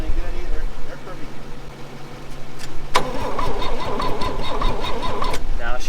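A 1962 Chevrolet Impala engine that sat over 25 years in a junkyard, cranking with a low drone that gives way to a louder, rough churning turnover, with a voice talking over it.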